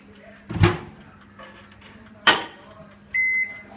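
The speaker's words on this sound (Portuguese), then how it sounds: "39 segundos no micro-ondas." Microwave oven heating a coffee mug in a home kitchen: a door thump, a second clack, then a steady beep at the end, all close and fairly quiet with no talk.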